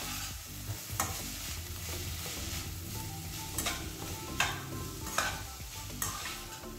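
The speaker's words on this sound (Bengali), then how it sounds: "এবার খুব ভালোভাবে এটাকে মিক্স করে নেব, আর অনবরত কিন্তু নাড়তে হবে" Chicken filling with chili flakes fries in a pan while being stirred constantly, giving a soft, even sizzle broken by regular spatula scrapes and taps about once a second, fairly quiet and with no voices.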